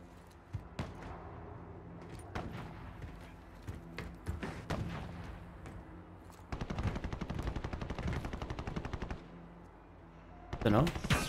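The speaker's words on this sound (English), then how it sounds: "Somebody's trying to snipe me." Gunfire in Warzone, scattered sharp shots early, then a rapid run of repeated cracks and a loud final burst, moderately loud, with talk now and then.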